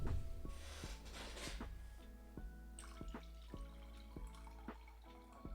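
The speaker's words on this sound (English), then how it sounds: "Just pouring a cup of tea here." Tea is poured into a cup close by, a faint liquid trickle followed by a series of soft, evenly spaced drips and small ringing clinks.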